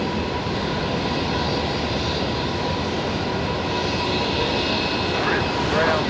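A USAF KC-46 tanker on final approach into Brisbane Airport, a steady, broad, loud engine roar throughout, heard under people talking.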